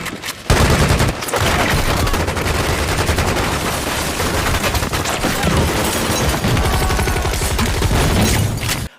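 Dense, sustained gunfire rips through an action-film shootout as a triad squad riddles a cabin with hundreds of bullets, loud rapid bursts overlapping continuously for several seconds after a brief opening pause.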